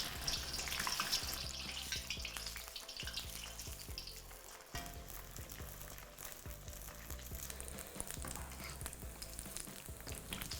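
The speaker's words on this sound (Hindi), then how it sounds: "अब इसे हम फ्राई करेंगे" Cheese bread rolls deep-frying in hot oil give a steady, crackling sizzle with continuous bubbling, close and moderately loud, no voices.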